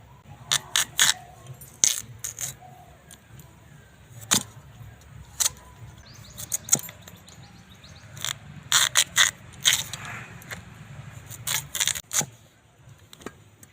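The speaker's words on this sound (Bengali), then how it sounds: "এবার এগুলো কেটে নেব গাজরগুলো আমি পিস পিস করে নেবো" A knife cuts washed carrots into pieces for a carrot sweet. Sharp, irregular clicks and knocks come in small bursts over a quiet room background.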